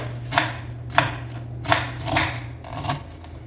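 A knife chops cabbage and potatoes on a board in a home kitchen, landing about five distinct, evenly spaced strikes, close and crisp over a low background hum.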